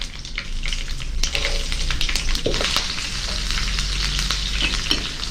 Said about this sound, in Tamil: இது பொறிஞ்சு கொண்டிருக்கிற இதே நேரத்தில் பச்சை மிளகாய் சேர்த்துடுவோம் பூண்டு சேர்த்துடுவோம்